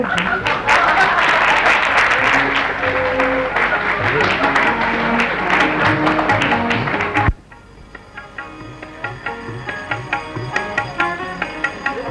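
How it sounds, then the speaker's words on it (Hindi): An aunt claps her hands loudly in a Hindi telefilm scene: a dense burst of clapping and commotion suddenly cuts to quieter, rhythmic hand claps repeating at a steady pace with faint background sound. "बुआ जी ताली बजा रही हैं खूब जोरों से।"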